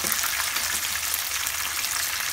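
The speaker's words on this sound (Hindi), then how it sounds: "और हम इसे भी 2 मिनट फ्राई करेंगे" Chicken pieces fry in a hot pan with a dense, continuous close-up sizzle and crackle that stays steady for a couple of seconds, with no voice over it.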